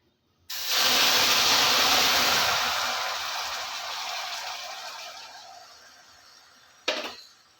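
Hot water hits cooking sugar caramel with a sudden loud hiss of steam that slowly fades over several seconds, ending with a short second sizzle burst.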